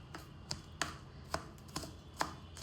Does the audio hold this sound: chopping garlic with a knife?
yes